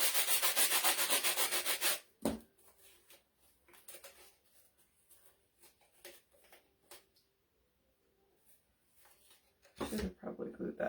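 Hand sanding scrubs across a thrifted wooden piece with no sanding block, a loud dense rasp at first, then scattered light rubs and taps, and a final burst of strokes.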